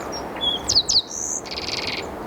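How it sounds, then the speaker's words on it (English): Green-tailed towhee song, a bright, close sequence of sharp whistled notes and quick slurred chirps ending in a buzzy trill, heard alone over faint background hiss. "While green-tailed towhee is more trilly or buzzier quality to it."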